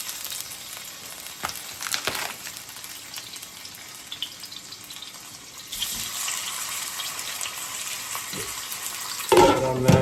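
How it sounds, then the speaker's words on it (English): Steak cooks in a frying pan with a continuous crackling sizzle that swells louder partway through, along with a few clanks and a sudden louder burst of spitting near the end. "I'm going to start sizzling the steak."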